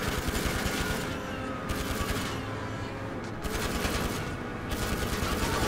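Rapid automatic gunfire from a gun in a video game, sustained loud bursts with short gaps, dense and continuous across the moment.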